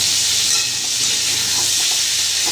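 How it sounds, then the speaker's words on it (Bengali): Pumpkin, beans and potato pieces are stirred as they fry in an oiled pan, a dense continuous sizzle with soft scraping of the spoon, close and fairly loud, with no talking. "ভালো করে ভেজে নিচ্ছি।"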